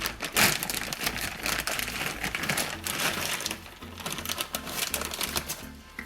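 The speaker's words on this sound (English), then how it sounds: "It's sealed in a plastic bag." Plastic bag around a new sway bar link crinkles and rustles as the part is unboxed, a close stream of irregular crackling bursts and sharp clicks of varying loudness, with no one talking.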